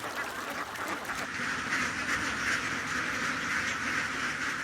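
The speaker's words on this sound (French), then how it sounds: "Ces armées de canards nettoyeurs sont devenues la norme dans les campagnes du royaume." A flock of ducks in farm fields quacks continuously, many overlapping calls forming a busy, nasal chatter at moderate distance.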